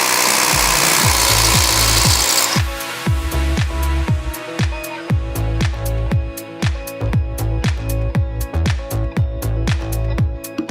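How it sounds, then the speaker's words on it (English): Rotary hammer drilling a 1/2 by 6 wedge anchor hole into a concrete floor for lathe mounting, a loud grinding burst first, then rapid rhythmic hammering pulses running steadily to the end. "we're just going to use the rotor hammer here, and we're going to drill in with this 1/2 by 6 wedge anchor"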